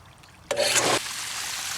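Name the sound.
green water flowing out of pool filter during backwash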